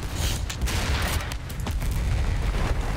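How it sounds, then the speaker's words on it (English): Rumbling blasts and crackling gunfire from a World War I battle in the video game Battlefield 1, a loud, dense barrage of booms and shots running continuously with no voices. "that was like a nuclear explosion"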